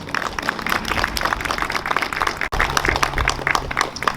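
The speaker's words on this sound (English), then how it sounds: "Please give them a round of applause" A room of people applauding town employees at a flag-raising ceremony, dense steady clapping filling the space for several seconds at a moderate, even level.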